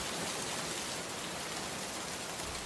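Steady rain falling during the monsoon season, a dense even hiss filling the whole stretch at moderate, unchanging loudness with no voices.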